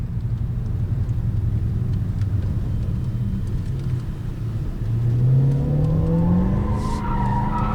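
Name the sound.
car driving fast on Ford test track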